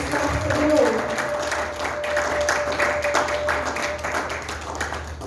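Church congregation applauding and cheering during a Sunday worship service, a sustained wash of clapping from a crowd with a faint tone and voices mixed in.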